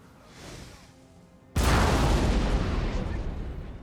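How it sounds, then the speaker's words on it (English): Cannons fire in the video game Napoleon: Total War, a sudden loud boom breaking a quieter stretch, then a long rumbling decay. "Cannons, you may fire when ready."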